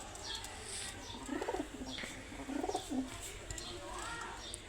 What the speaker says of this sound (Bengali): কবুতরগুলোকে দেখুন।